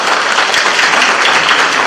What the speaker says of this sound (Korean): 5분들 다시 한번 큰 박수 보내주시기 바랍니다.